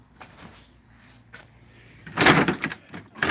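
Drawers in a cluttered workspace are pulled open and rummaged through during a search for a part for a back track adjuster, giving rattling, sliding knocks that build to a louder burst of clattering near the end.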